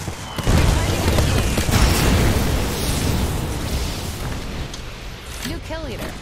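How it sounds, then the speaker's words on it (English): A grenade blows up in a battle royale shooter with a loud, sustained, broadband roar that begins about half a second in and rumbles on under ongoing game noise, easing slightly toward the end. "Grenade hit."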